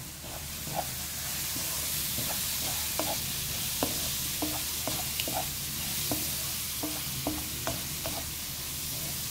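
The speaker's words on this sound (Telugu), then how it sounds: "పసుపు వేసి మళ్ళీ ఒకసారి కలుపుదాము" Onions frying with turmeric stirred in a pan while cooking moringa leaves, a steady hissing sizzle under a long run of rhythmic spoon scrapes and taps, close and even.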